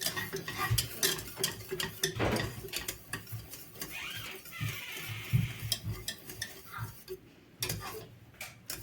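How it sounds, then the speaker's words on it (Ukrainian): A spoon scrapes and clinks steadily around a pot of thick boiling berry filling, close up, with soft ticking taps and a low simmering bubble. "Я її ще ретельно мішаю."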